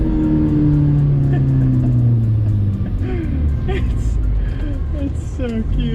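Hyundai Genesis Coupe 2.0t turbo fitted with an AEM intake driving out of a parking garage, its engine droning and shifting pitch close by, with someone talking over it.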